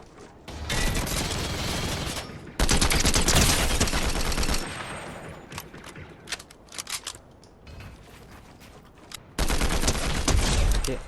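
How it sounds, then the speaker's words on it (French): Heavy gunfire rips through a round of the video game Fortnite, loud sustained bursts of automatic fire broken by short gaps and sharp single shots, up close and with no voices over it. "on se fait tirer dessus"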